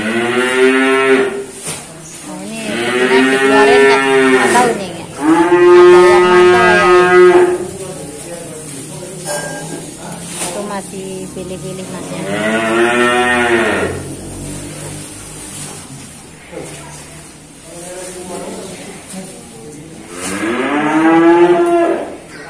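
Cattle at a cow dealer's yard in Bantur, including a prized heifer, give a series of loud, drawn-out moos, about five long calls spread across the stretch with quieter pauses between them.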